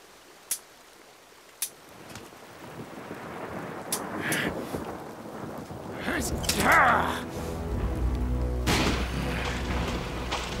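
Rain and a thunderstorm in a drama set in an Iroquois cemetery, steady rain and wind building, with low rumbles of thunder swelling midway and sharp knocks and clatter, with voices talking over it.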